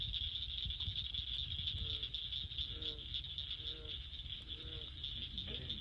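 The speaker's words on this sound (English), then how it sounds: "listen to all those frogs." Frogs calling at night along the Kings River in Arkansas, a faint chorus of repeated croaks over a steady high insect drone and low rumble, distant and continuous.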